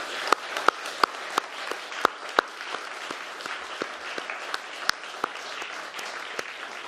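An audience at an education awards ceremony gives a round of applause, steady moderate clapping from a sizable crowd with a few sharper, closer claps standing out, sustained throughout.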